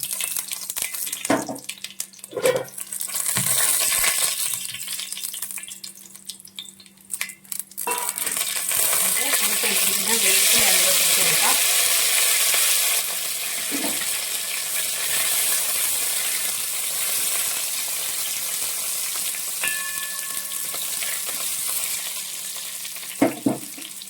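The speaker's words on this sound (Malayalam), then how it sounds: "കടുക് നന്നായിട്ട് പൊട്ടട്ടെ" Mustard seeds crackle and sizzle in hot oil with green chillies for a coconut-roasted crab curry. A loud, steady frying hiss is broken by scattered pops, with a few clinks and stirring sounds, and no voices.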